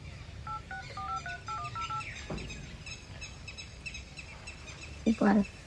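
A run of telephone keypad tones is dialed, short beeps in quick succession, before a phone call is placed; a few faint bird-like chirps sit in the background, and a louder brief burst comes near the end.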